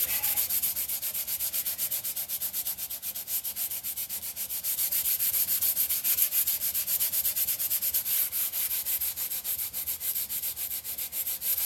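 A wooden book box being sanded by hand, a continuous close rasping rub that stays loud and even in long back-and-forth strokes for the whole stretch, with no voices.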